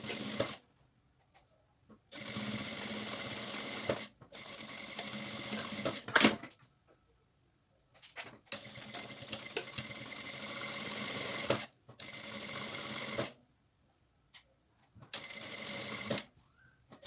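A sewing machine stitches the lining of a bag made from leftover materials, running in several bursts of steady rapid whirring separated by short pauses.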